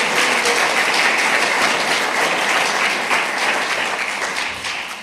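An audience at a church gathering applauds steadily, a dense and fairly loud patter of clapping that holds evenly and fades a little toward the close.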